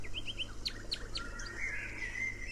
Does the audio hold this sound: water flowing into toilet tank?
no